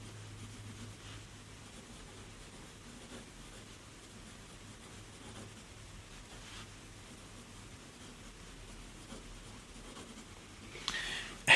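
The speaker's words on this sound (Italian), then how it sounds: "Il pennino, come vedete, scrive un po' in tutte le angolazioni" A Stabilo Grow pen scratches softly across paper, a faint, steady writing hiss running throughout with a louder rustle at the very end.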